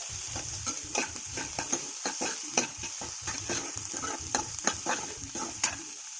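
Chopped cabbage being stirred and sautéed in a pan, a steady sizzle under repeated scraping strokes of a spatula in an uneven rhythm.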